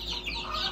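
A short burst of game chickens clucking, faint and somewhat distant, with a steady low hum underneath.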